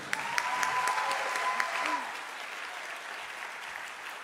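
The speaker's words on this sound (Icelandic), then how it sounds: "gefum henni gott klapp" Audience at a music competition final applauds a young singer, a steady, moderately loud wash of clapping that gradually softens, with a voice briefly audible over it.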